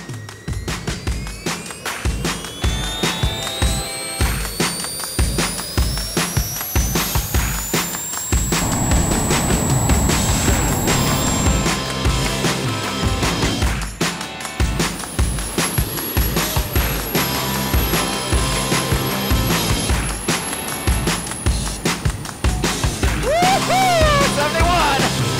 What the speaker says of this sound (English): This thing's a kid's toy, you know, with jet engines on it.